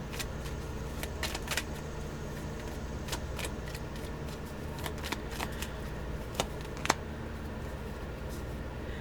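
Tarot cards are shuffled in quick riffling bursts and sharp snaps, repeated several times over a constant low background rumble.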